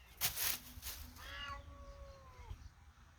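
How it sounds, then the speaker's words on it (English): Two cats in a standoff: one lets out a long, wavering yowl lasting about a second, rising then trailing off, after a few scuffling thumps; the cry sounds fairly close. "And it's a kitty showdown."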